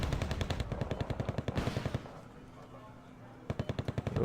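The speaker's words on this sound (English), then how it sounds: "there's a lot of fire support coming down on them" Rapid bursts of machine-gun fire and artillery in a real-time strategy game, loud and rhythmic, stop for a quiet stretch, then a final burst of rapid shots returns.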